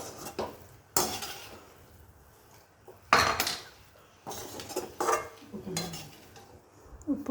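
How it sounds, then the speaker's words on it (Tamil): Spoon scraping and clinking against a pan as potato stuffing is stirred with chopped coriander leaves, several separate bursts of stirring with short pauses, close and moderately loud. "கொரியாண்டர் லீவ்ஸ் ஆட் பண்ணிவிட்டு நல்லா மிக்ஸ் பண்ணிவிட்டு"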